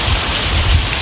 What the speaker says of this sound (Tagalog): Rainbow fountain ng Katara.